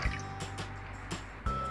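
Water is poured into a cooking pot, two cups' worth, giving a short, close sloshing and dripping fill with soft splashes.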